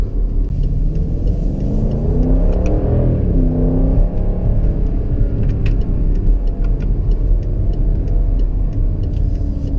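A BMW X5 xDrive50i M Sport accelerates hard, its V8 engine note rising and falling in pitch with gear changes, loud, close and continuous over steady road rumble.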